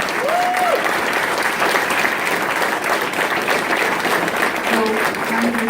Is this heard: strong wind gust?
no